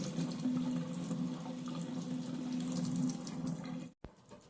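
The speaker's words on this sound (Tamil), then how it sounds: "புதினா வந்து ஒரு பெரிய கட்டளவுக்கு எடுத்திருக்கேன் இதை நல்லா வாஷ் பண்ணிக்கலாம்" A big bunch of mint leaves rinsed under a running kitchen tap, the water streaming steadily and close for several seconds before cutting off abruptly, with a few faint drips and handling sounds after.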